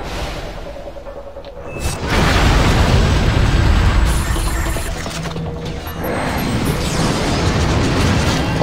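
Rockets explode in the video game Vanquish, a quiet mechanical lull giving way to loud, crashing booms with whooshing debris, followed by a second surge of blasts near the end.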